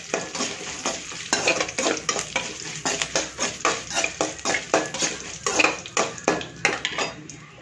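Rapid crackling and popping of mustard seeds spluttering in hot oil with dried chilli and curry leaves, a dense run of sharp bursts close by, with occasional utensil clinks.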